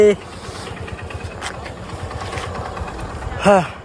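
A motorcycle engine rumbles steadily up close as the bike is ridden on the road, with a voice heard briefly at the start and again near the end.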